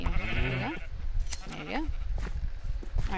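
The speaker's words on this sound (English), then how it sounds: "Grabbing all the wool from the adult sheep now," Repeated bleating from Minecraft sheep: three short, wavering calls spaced about a second apart, each close and fairly loud over continuous background game sound.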